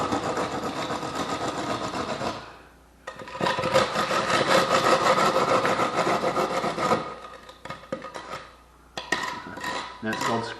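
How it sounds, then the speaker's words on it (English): A straight board dragged across material to screed and level it, producing loud, close, rasping scrapes in long sustained passes broken by short pauses and a few shorter strokes. "but it's called screeding."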